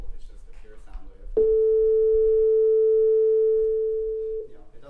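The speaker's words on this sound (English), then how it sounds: "the sine wave is the most simple sound available. It's just a pure sound wave." A pure sine wave tone sounds steady and clear for about three seconds, loud and alone. Short stretches of talk come before and after it.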